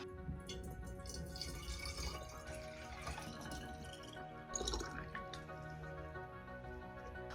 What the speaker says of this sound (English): filling up the cuttings little glass containers with water